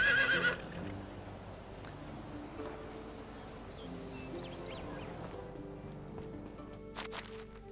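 In the video game Medieval Dynasty, a horse gives a short, loud whinny at the start, then quieter ambient game sounds and soft tonal background continue without speech.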